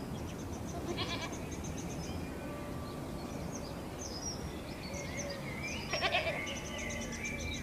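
Goats bleat in a dry castle moat, a few wavering calls at a moderate distance with pauses between them over a quiet outdoor background, and birds chirp faintly throughout.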